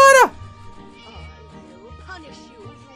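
A video game cat lets out one loud, rising meow right at the start, followed by quieter game background sounds and a person talking.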